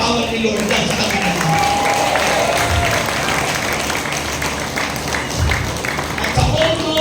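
A church crowd at a healing service in Calamba City claps together in a continuous, dense wash of applause, loud and even from start to finish, with voices mingling underneath.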